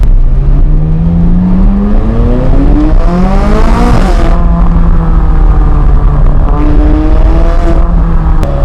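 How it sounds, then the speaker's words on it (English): A McLaren 570GT engine screams up through the gears on a closed road, pitch climbing hard, dropping at each shift, then climbing again, loud and close. "We are about to blast down. Closed road. Closed road. McLaren 570 GT."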